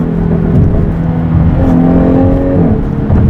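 Jaguar F-Type P380 sports car in dynamic mode with its variable exhaust valve open, engine revving loudly and steadily up close, with rising and falling pitch as it accelerates through the gears.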